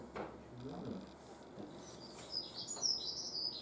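A small bird sings a thin, high twittering song, faint and somewhat distant, with a few soft sounds from nearby early on.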